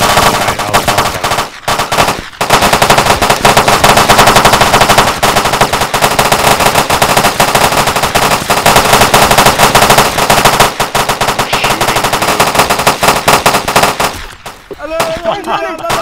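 Loud, sustained automatic gunfire in the video game Arma 2, dense rapid bursts that continue almost without pause for many seconds before breaking off near the end, with no voices.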